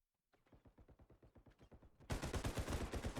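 Rapid automatic gunfire from the realistic shooter Bodycam, a steady stream of evenly spaced shots that starts quieter and somewhat distant, then jumps much louder and closer partway through.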